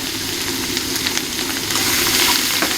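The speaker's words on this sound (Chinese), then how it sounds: "放点青椒一起炒" Precooked mountain bamboo shoots stir-fry with green peppers in a wok, a loud, continuous sizzle with scattered scrapes and tosses close by.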